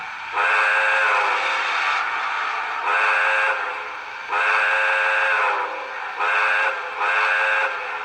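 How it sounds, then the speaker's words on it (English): The whistle of an Atlas O-scale CNJ 0-6-0 B-6s model steam locomotive, run with TMCC control, blows five times in separate blasts of varying length, bright and reedy, with short quiet gaps between. "So here's the whistle."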